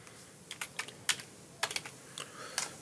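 Quick, irregular bursts of keystrokes from code being typed on a computer keyboard in C++ Builder, crisp and close in a quiet room, with no talking.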